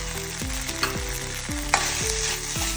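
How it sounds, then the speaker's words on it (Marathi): Ginger garlic paste frying in a pan for crab masala, giving a steady close sizzle throughout with a few brief scraping stirs, and no voices. "जिंजर गार्लिक पेस्ट घालून मस्त तळसून घेऊया।"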